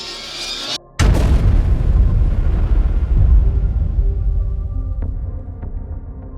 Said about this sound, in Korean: 곧이어 엄청난 폭발과 함께 항공기와 경납고가 동시에 불타기 시작했습니다